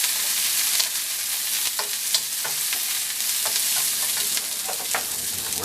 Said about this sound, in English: I'm going to turn this down just a little bit so my onions don't get all overcooked.